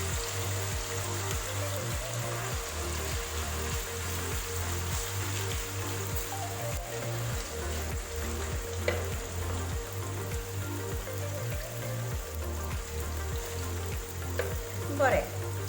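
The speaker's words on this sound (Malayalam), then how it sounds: "നമുക്കിത് ഒരു ഷാലോ ഫ്രൈ ചെയ്ത് മാറ്റാം" Food shallow-fries in hot oil over a medium flame for a biryani, giving a dense, continuous crackling sizzle that stays steady and close throughout, with occasional faint clinks.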